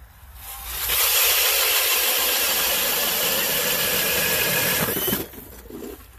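A DeWalt cordless drill spins a Mora hand ice auger fitted with a drill plate through lake ice at full speed: a loud, steady grinding whine lasting about four seconds, then it cuts off.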